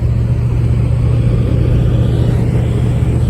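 A 1984 Mustang GT350 with a 357 Windsor engine cruises in fifth gear at about 1800 rpm, a steady, loud low exhaust drone with road rumble and no voices.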